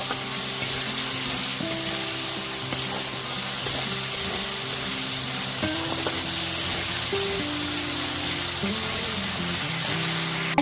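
Onion, ginger, garlic and green chilli paste fries steadily in a pan over a medium gas flame for a fish curry, a continuous sizzle with occasional stirring scrapes throughout, close and fairly loud with no voices.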